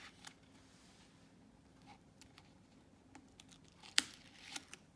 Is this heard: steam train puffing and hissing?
no